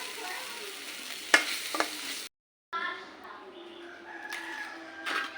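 Dried fish (shutki) sizzles and is stirred in a pan, faint steady frying with a couple of sharp scraping clicks of a utensil and a short silent gap midway.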